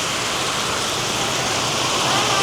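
Steady, heavy rain falls in a village on a rainy day, a dense even hiss that swells slightly toward the end, with no voices.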